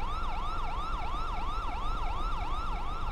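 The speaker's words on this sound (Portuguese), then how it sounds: "Ô, polícia, vou desligar a sua sirene ali, tá? Que tá fazendo muito barulho" A police siren in GTA 5 wails in a steady, repeating rise-and-fall pattern, loud and close, sounding alone without any talk.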